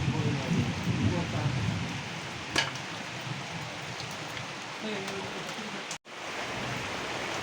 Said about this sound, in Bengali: ভালোই বৃষ্টি জোরে এসে গেছে।